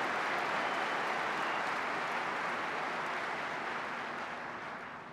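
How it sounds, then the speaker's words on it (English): A large audience at the 2013 NRA Annual Meetings applauds, a broad, steady roar of clapping heard from a distance that slowly fades toward the end. "Let's give Chris and the team at the NRA another great round of applause"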